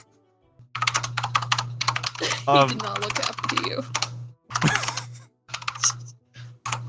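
Clicky computer keyboard typing that sounds like an old typewriter, rapid irregular keystrokes running through most of the clip under a steady low hum, with someone talking over it.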